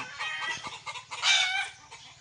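Chickens clucking and squawking nearby, overlapping calls with one louder burst in the middle.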